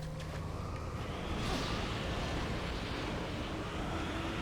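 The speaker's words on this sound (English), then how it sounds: "these wind gusts that are the thing" Broad, steady rushing of wind gusts in the video game Bayonetta, a constant roar that swells slightly midway and stays loud throughout, with no voices.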